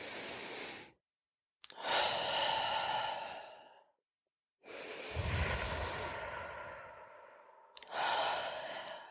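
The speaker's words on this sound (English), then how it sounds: "I want you to inhale through your nose. Okay. I want you to hold to 4 and then exhale through your mouth 4." Exaggerated breathing exercise done in a group: long audible inhales through the nose and forceful sighing exhales through the mouth, separated by silent four-count holds, close and clear.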